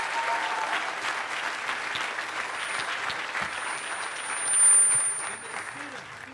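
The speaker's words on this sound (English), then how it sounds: "Would you give all of our participants a big round of applause" Audience at a state civics and debate championship applauding participants in a steady, moderately distant wash of clapping that swells briefly near the end.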